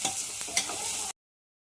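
A spoon scrapes and stirs chili powder and rock salt through a pan, making a close, gritty swishing with a couple of sharper scrapes over about a second before cutting to silence.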